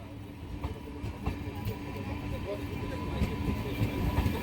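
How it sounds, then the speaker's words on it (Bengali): The Kolkata–Sairang Express pulls out of Murshidabad Junction toward the Nasipur rail bridge, a steady low rumble of rolling wagons with faint clacks and voices mixed in. "সাইরাং এক্সপ্রেস মুর্শিদাবাদের প্ল্যাটফর্ম ছেড়ে নসিপুর রেল ব্রিজের পথে উত্তর পূর্ব ভারতের মিজোরামের সাইরাং যাচ্ছে"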